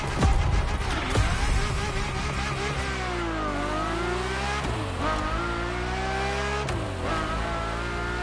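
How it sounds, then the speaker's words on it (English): A Ferrari F50 in the racing game The Crew Motorfest roars loudly, its engine note climbing and falling through several rev sweeps and gear changes, continuous and close. "The Ferrari F50, a bridge between road and racetrack."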